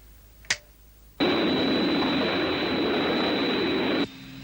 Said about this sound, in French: Tu vas entendre mes réacteurs.